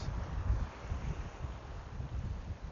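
Strong wind roars and buffets the microphone at night on Gorée Island, Senegal, a dense low rumble with gusty swells, continuous and close, with no voices over it.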